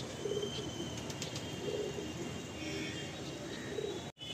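Malwai pigeons cooing in a loft, soft repeated low coos in a few separate bursts over a steady background murmur, fairly faint and close, with no one speaking.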